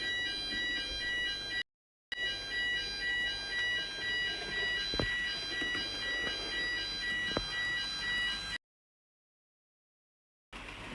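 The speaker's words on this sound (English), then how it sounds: "That's the fire alarm" A fire alarm sounds during a drill in a rapid pulsing high-pitched pattern, cutting out briefly, resuming, then stopping; a couple of faint knocks sit beneath it.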